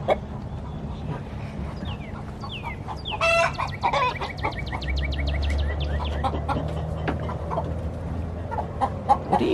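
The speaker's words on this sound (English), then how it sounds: "So sounds like one of them's over there laying an egg already." Backyard chickens clucking and squawking loudly at close range, a laying hen's excited cackling calls repeating over steady outdoor background noise.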